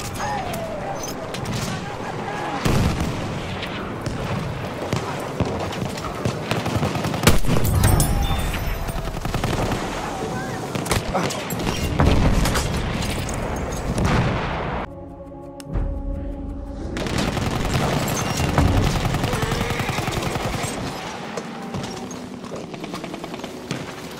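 Enemy machine gun fire in a video game battle, dense rattling bursts and scattered shots running almost continuously, loud and close, with a brief lull midway and game sounds and voices mixed in.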